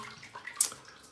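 A Yaqi SE safety razor is rinsed under running water, a brief soft splash and trickle, faint and close, with no talking.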